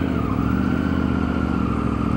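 Busy Indonesian street traffic thick with motorcycles and Honda Scoopy scooters, a steady, dense engine drone and whir of several bikes idling and pulling away close by, with no talking.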